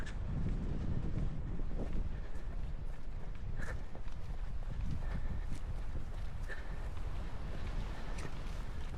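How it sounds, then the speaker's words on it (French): Wind buffets the microphone on a coastal mountain trail during an ultra trail race in Guadeloupe, a constant low roar with faint scattered taps and footstep-like knocks, no voices. "Le petit vent fait du bien, je vous le dis moi."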